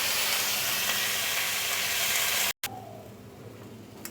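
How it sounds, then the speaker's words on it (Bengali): Bitter gourd and potato pieces fry in oil with salt and turmeric, giving a steady, close hiss that cuts out briefly and returns a little quieter and thinner. "আমি এগুলোকে নুন হলুদ দিয়ে ভেজে নিচ্ছি"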